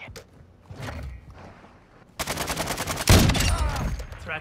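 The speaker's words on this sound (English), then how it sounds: "sorry, that's an RPK. Even worse." An RPK light machine gun fires in a video game: after a quieter stretch of distant shots, a close, loud, rapid-fire burst breaks out, followed by a heavy thump and more firing.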